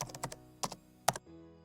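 Quick typing of an indicator name on a computer keyboard, a few soft close key taps in short bursts followed by a firmer final keystroke, quiet and alone.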